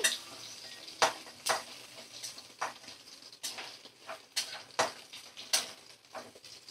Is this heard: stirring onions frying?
yes